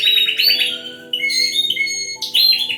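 A caged breeding songbird sings alone and close, in three bright bursts of rapid chirps and trills separated by brief pauses, with a faint low hum beneath.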